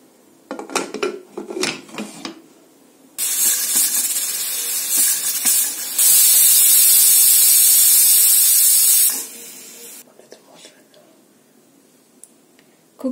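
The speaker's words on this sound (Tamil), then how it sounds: "குக்கர் 3 விசில் வந்து பிரஷர்லாம் நல்லா போயிடுச்சு." A kitchen pressure cooker releasing steam, a loud sustained hiss in two long bursts, the second fiercer, framed by clinking of metal pots and utensils.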